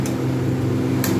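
A lid set onto a cooking pot of coriander chicken curry simmering on low heat gives two brief clinks about a second apart over a steady low kitchen hum.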